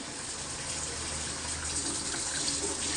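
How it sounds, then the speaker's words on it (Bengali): Water pours steadily into a pan of spiced masala for a katla fish curry, a constant close gushing splash lasting the whole moment with no talking. "এবার একটু জলের পানি দিয়ে দেবো আমি"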